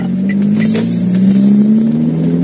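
A car accelerating on an empty road, heard from inside as a loud, steady engine drone whose pitch rises gradually over a couple of seconds, with no talk.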